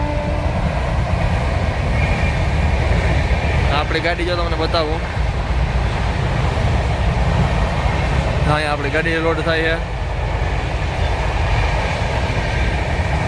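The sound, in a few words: train passing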